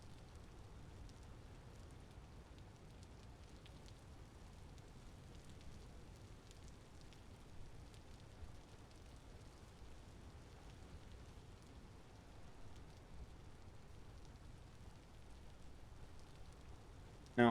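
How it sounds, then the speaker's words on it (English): Steady rain falls across a Vintage Story game world, a dense, even hiss that runs unbroken throughout at a fairly quiet level, with no talking over it. "Oh, the rain is so loud."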